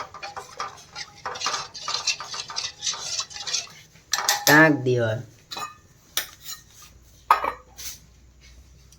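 A spoon clinks and scrapes against a metal pot while sweet-sour chutney with sugar is stirred, a run of quick close taps and rattles, with a brief voice partway through.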